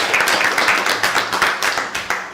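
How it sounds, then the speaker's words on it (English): A small group claps at a committee meeting, with brisk, close, fairly loud hand claps in a steady run that fades slightly toward the end. "Clap again?"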